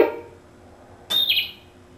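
A single bright bird chirp rings out clearly after a moment of near quiet, short and fairly close, with a brief fainter sound at the very start.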